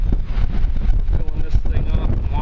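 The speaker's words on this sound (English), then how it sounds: "It's real windy out here" Strong wind blowing outdoors in a yard, a loud continuous rumbling gust buffeting the microphone, with a person talking underneath.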